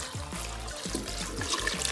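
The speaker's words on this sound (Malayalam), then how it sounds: "കുറച്ച് വെള്ളം ഒഴിക്കുന്നുണ്ട്." Water pours into a pressure cooker for sambar, a quiet steady trickling stream with small splashes, heard alone.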